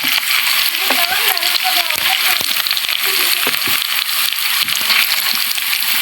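Siomai sautéing in a hot pan with water added, giving a loud, steady sizzle and crackle of frying. A utensil scrapes and stirs in the pan now and then.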